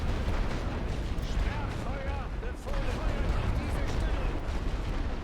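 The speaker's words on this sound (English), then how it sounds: "let's start weakening this front line with artillery" Artillery barrage in The Great War: Western Front, a World War I strategy game, rumbling as a dense continuous bombardment with overlapping booms and crackling bursts, loud and sustained throughout, with faint background voices mixed in.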